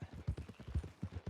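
A horse's hooves clip-clop in a steady, close rhythm in Red Dead Redemption 2, the beats even and distinct with no talk over them.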